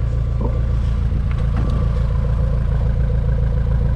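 A loud, rough engine idles steadily in a Mk4 Volkswagen Bora wagon with its muffler removed, a deep, throbbing low rumble. There is no revving and no talking.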